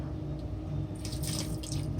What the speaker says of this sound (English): Water drip out is good.